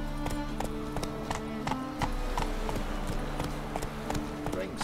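Horse hooves clip-clop at a steady trotting rhythm in a video game, close and moderately loud, with music and voices talking over the hoofbeats.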